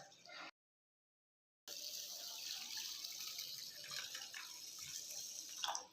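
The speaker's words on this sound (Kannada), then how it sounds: "ಇವಾಗ ಅಕ್ಕಿ ಮುಳುಗುವಷ್ಟು ನೀರು ಹಾಕೊಳ್ಳೋಣ" Water runs steadily into a pot of washed rice, a continuous close splashing pour after a brief cut of silence, with no talking.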